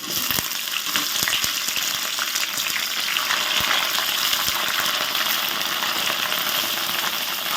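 Cauliflower fries in a hot pan for fried rice, a steady dense sizzle with scattered crackles and pops running throughout, loud and close with no talking.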